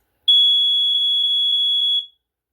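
A Wards BRK 769AC-I smoke alarm sounds during a test: one piercing, very loud steady electronic tone lasting about two seconds with faint pulsing, then stopping abruptly.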